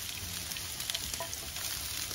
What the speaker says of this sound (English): Make sure you get a good sizzle.